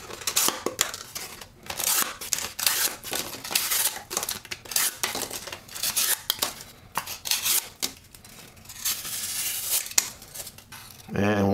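A Spyderco Manix 2 knife slicing through Huggies diaper box cardboard, with repeated rough scraping and tearing cuts in irregular bursts up close.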